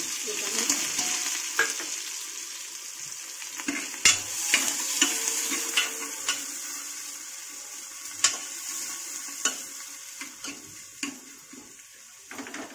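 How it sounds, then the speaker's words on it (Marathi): Onion frying in hot oil in a home kitchen pot, a steady crackling sizzle with sharp spoon scrapes and stirring knocks scattered throughout. "तेल चांगलं गरम झालेलं आहे ना, त्याच्यामुळं लगेच कांदा टाकून घेणार आहे मी"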